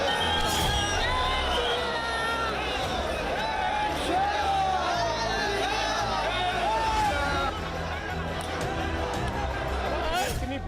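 A huge crowd of Ram devotees gathers in Ayodhya, with a dense, loud hubbub of cheering, whooping and shouting voices that keeps going the whole time under a continuous low drone.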